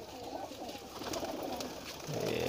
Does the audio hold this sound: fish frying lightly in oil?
no